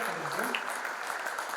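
Audience applause at a send-off ceremony for a residential training course batch, a brief burst of steady clapping that carries evenly through the short moment.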